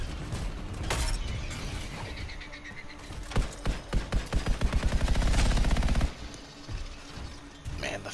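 A rapid-firing weapon in the video game Anthem fires a fast burst of sharp, evenly spaced shots midway, set among loud game effects, crashes and impacts.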